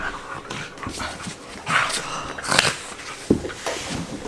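Small dogs in a home make brief whimpers and yips with scuffling movement, a few sharper bursts standing out against a quiet background.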